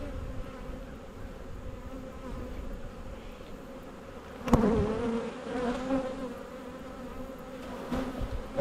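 Agitated honey bees buzzing in an open hive after their frames are shaken, a steady dense drone that swells louder partway through, close to the listener, with no talk.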